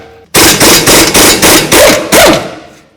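A hammer strikes a strut mounting bolt on a 2012-17 Toyota Camry front knuckle: seven loud, evenly spaced metallic blows in quick succession, close up, with a ringing tail after the last hit.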